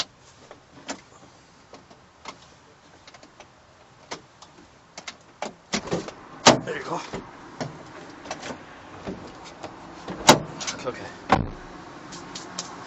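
A faulty power sliding door on a Honda Odyssey opens with scattered mechanical clicks and clunks over a faint motor whir. A person speaks briefly nearby.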